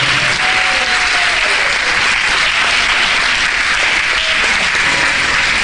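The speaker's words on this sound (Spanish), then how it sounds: "Le dan un aplauso fuerte al Señor, por favor." Loud, dense applause from a church congregation, steady and sustained throughout with no voices breaking through.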